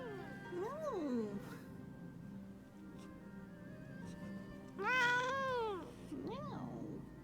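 A cat meows several times in a row, with drawn-out, rising and falling cries and one louder, strained wail near the end. The calls come close and clear over steady low background hum.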